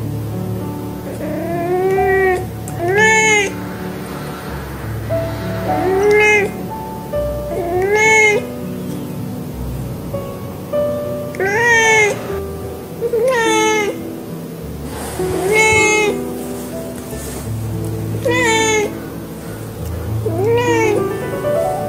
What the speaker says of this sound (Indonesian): Sopan gila kucing ni.